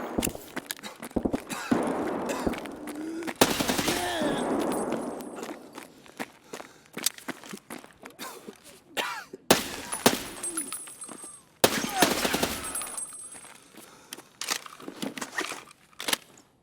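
Gunfire and footsteps in the tactical shooter Escape from Tarkov, with sharp loud bursts of shots separated by quieter stretches of movement and rustling, no talking.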